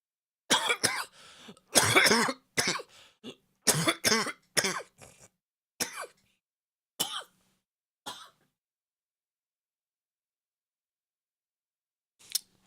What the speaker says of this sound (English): I keep coughing, and I don't know why.